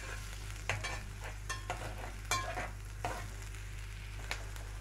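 Onion slices softening in oil in a pan, a steady low sizzle with scattered brighter crackles and occasional stirring scrapes, close and continuous with no talking.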